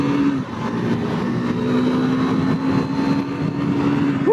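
A 2022 KTM 390 Duke naked bike accelerating hard on a highway, its engine note holding a loud, steady tone that climbs slightly at the very end, with wind rush underneath.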